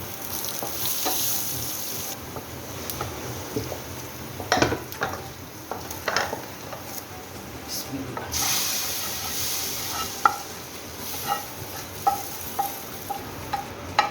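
A hot spice tempering is poured over mango dal, bursting into loud sizzling hiss, then steady frying and stirring with pot clinks and scraping continue close by throughout.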